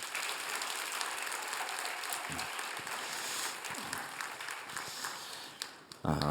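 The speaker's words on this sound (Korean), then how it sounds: "우리 큰 박수로 격려해 주시기 바랍니다" A church congregation at a Sunday worship service applauds to welcome and encourage a couple, a soft, steady patter of clapping heard from a distance that runs throughout, with a few low bumps and a louder knock at the end.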